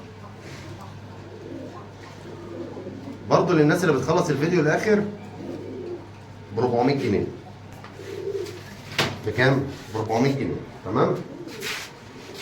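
Pigeons at a bird seller's loft coo in low, throaty bursts, heard intermittently close by under a man's ongoing speech.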